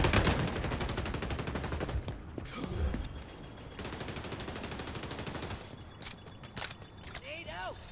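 Rapid machine-gun fire in the online shooter XDefiant, dense bursts dominating the first half, then scattered shots and game noise with voices speaking.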